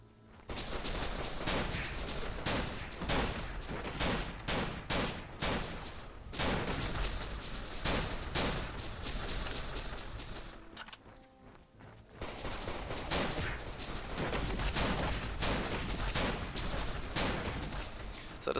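Gunfire in the video game The Legend of Alfur, including a sniper rifle: dense, loud, continuous shooting and explosions with a brief lull midway, no talking.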